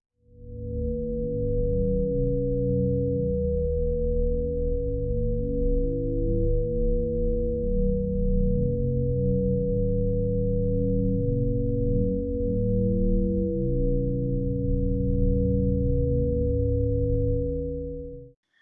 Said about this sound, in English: when a person approaches a rock and brings their hands near to the songsmith theme, that it sings